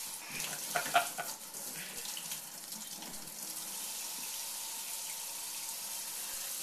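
Tap water runs steadily into a sink, where a small child is playing in the flow, giving a continuous, close splashing hiss with a few brief louder gurgles early on.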